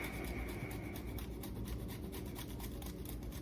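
Food is rubbed against a hand grater in quick back-and-forth strokes, a close, continuous raspy scraping.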